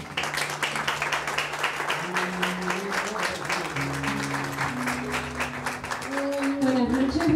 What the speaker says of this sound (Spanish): Recibimos con un fuerte aplauso a Valentina Balcala